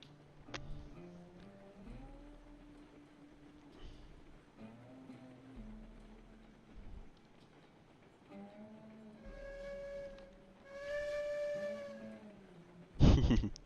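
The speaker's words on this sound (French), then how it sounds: "T'aimes bien le sifflet?" A slow steam locomotive in a train video game, limited to about 15 mph, rumbles and hums along while its whistle sounds in rising, sustained blasts near the end, moderately quiet and free of talk.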